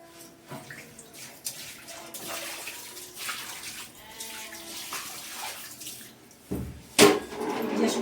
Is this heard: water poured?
yes